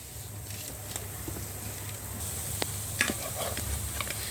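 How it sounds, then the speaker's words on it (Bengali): Lentil fritters (peyaju) frying in hot oil, giving a steady, dense sizzle and crackle throughout with occasional sharper pops and spatters. "এখন আমি নিচের সাইডটাকে আগে লাল করে ভেজে নেব"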